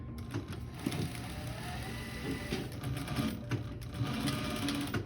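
A sewing machine runs steadily, back stitching across the tops of coat pockets sewn from a blanket, with a rapid mechanical whirr that holds close and even throughout and no talk over it.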